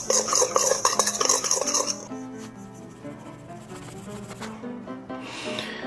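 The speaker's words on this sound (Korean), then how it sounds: "건조되어 있는 재료들을 잘 섞어주시면 됩니다" Dry seasoning of coriander seed powder, oregano, seasoned salt and coarse black pepper is stirred together in a bowl, giving busy scraping and rustling for about two seconds before music takes over.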